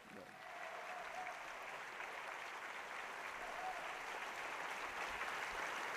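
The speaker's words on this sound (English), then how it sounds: "Let's give another round of applause for our fantastic presidential candidates." An audience applauding presidential candidates at a political event, many hands clapping in a steady, sustained wash that builds in the first half second and continues loudly to the end.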